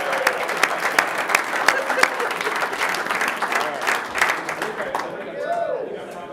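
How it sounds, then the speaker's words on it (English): Audience applause at a city council meeting, a full round of clapping from the room that holds steady, then thins out and fades as murmured chatter comes through near the end. "Let's give him a round of applause."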